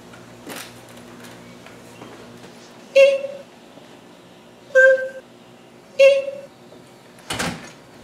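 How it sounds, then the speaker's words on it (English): A door creaks and squeaks open in several short bursts, each with a sharp squeal, followed by a heavier thud near the end. "Mr. Ricch, you gotta get this door fixed."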